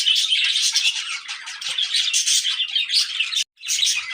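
Pet birds chirping nonstop in a close, busy cluster of high tweets, loud and continuous apart from a brief gap near the end.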